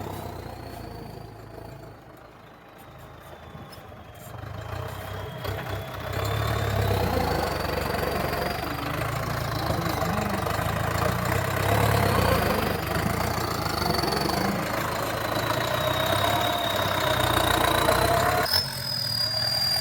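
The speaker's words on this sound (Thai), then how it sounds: "มีอาการดังคล้ายวาวเขกนะครับ" A car engine with valve tapping idles steadily for the whole stretch, with a faint repetitive ticking on top of the low rumble and a brief revving whine.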